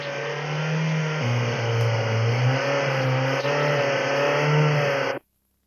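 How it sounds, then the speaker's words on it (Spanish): A car engine with its vacuum sensor disconnected, running in fail-safe mode with fixed fuel injection duration, hums steadily and loudly at close range, its pitch dipping slightly then holding before cutting off abruptly near the end. "El motor está marchando en el modo seguridad."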